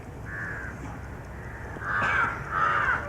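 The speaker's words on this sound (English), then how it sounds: "Listen to that crow." A crow caws outdoors: one drawn-out call, then two louder harsh caws close together near the end, heard alone against a quiet background.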